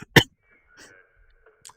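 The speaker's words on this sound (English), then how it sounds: "and now it's decided that this is the right time to start coughing" One short, sharp cough from a person, close and abrupt, followed by quiet with only faint murmurs.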